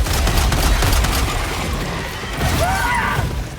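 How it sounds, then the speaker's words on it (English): Breaker Incendiary shotgun firing automatically in Helldivers 2, a rapid rough burst of blasts up front followed by crackling impacts and a brief whine of chaotic battle noise. "The Breaker Incendiary will behead a warrior in a 3-round burst at relatively close distance."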